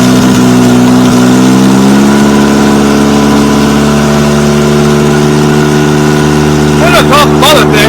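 A Toyota Tercel car engine idling loudly and close, with a steady humming drone that shifts in pitch partway through and a few brief revs near the end.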